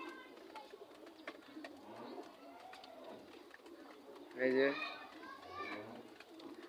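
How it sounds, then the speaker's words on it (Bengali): Pigeons coo in a low, throaty burst from a nearby coop holding six young birds, while a person speaks briefly over faint background chatter. "চলেন কবুতরগুলো দেখাই আপনাদের"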